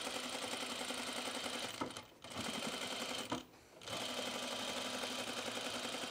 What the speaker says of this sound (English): I'm gonna stay stitch my neckline now, just inside that 3/8 inch seam allowance.